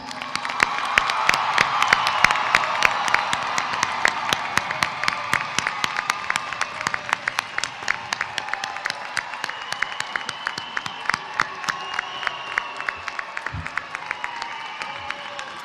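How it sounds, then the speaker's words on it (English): A large crowd applauds the graduates at Bowsher High School's graduation ceremony, with sustained dense clapping and some cheering that starts loud and gradually thins to scattered claps. "please give these graduates a huge round of applause"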